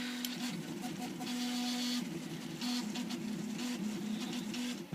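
A modified Prusa 3D printer runs a fast print job, its stepper motors whining in steady tones that shift pitch with each move, with a constant mechanical hum and rattle throughout and no talking.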